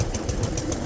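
An Allis Chalmers garden tractor engine runs close by with a steady, pulsing chug that has a rough, knocking beat, heard alone without any voices.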